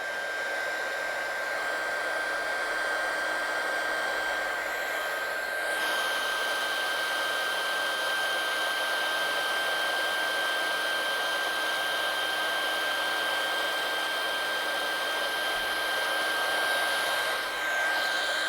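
A heat gun blows steadily on a coat of paint on canvas, a loud continuous whooshing roar with a thin high whine that holds for the whole stretch.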